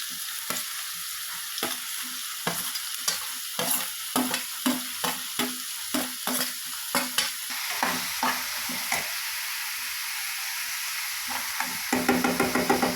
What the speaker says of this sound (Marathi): आता मी याच्यात कांदा घालते.